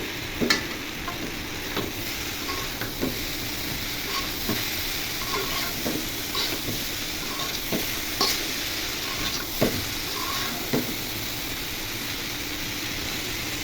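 A spatula stirs potato and pointed gourd bhaji in a frying pan, the low sizzle running steadily underneath as scraping strokes land in irregular bursts, close and fairly loud, with no talking.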